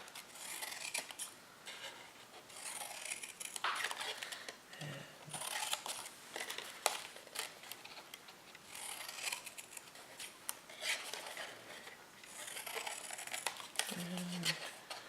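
Scissors cut paper for a diagonal-close box card in a series of short snipping and crinkling strokes in quick clusters, close and fairly faint, with a few pauses between cuts.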